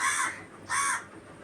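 A crow gives two harsh caws about half a second apart, heard clearly on its own against a quiet background.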